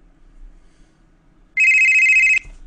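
A telephone rings with an incoming call: one loud, steady electronic ring burst of under a second after a quiet stretch, with no one talking over it.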